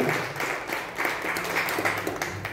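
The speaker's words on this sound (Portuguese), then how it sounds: "Então dá uma forte salva de palmas para o Senhor." A church congregation claps during a revival service, a steady patter of many hands sustained throughout, moderately loud and somewhat diffuse in the hall.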